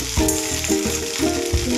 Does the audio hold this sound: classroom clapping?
no